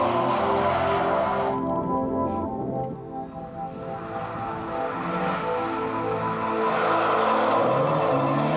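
A thirty-year-old Aston Martin DB5 driven hard, its engine a harmonic drone that dips briefly and then climbs again, heard at a moderate distance.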